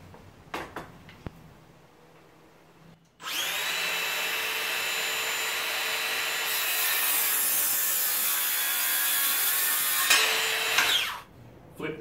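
A power saw cuts through wood held in a 45 degree jig, a loud, sustained whining rasp lasting about eight seconds, with a few faint knocks before and after.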